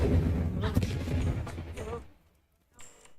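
A fire spell cast in the video game Hogwarts Legacy bursts out as a loud, crackling blast of roughly two seconds under a player's voice, then cuts away to near silence before a short faint tail.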